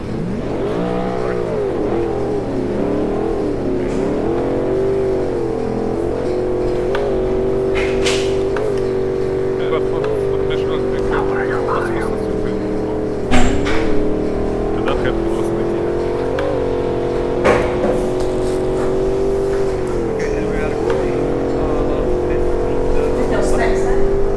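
GT3 race cars idle along on a formation lap at Suzuka in a racing video game, a continuous droning engine tone that rises and falls gently, with a brief louder burst midway and voices talking over it.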